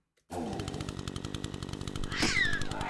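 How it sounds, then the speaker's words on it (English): A chainsaw in a cat heist video game starts abruptly and buzzes in fast, rough pulses. The noise stays loud and close, then swells with a rising whine near the end. "I just killed myself on a chainsaw"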